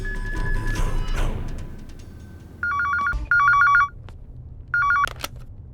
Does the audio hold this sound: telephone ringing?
yes